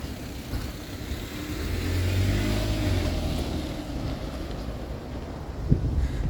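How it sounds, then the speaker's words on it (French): A car on a road in Japan passes from behind at close range, its engine and tire roar swelling to a broad peak and then easing off into wind noise, with a brief bump near the end. "il y a une voiture. Il y a une voiture derrière moi."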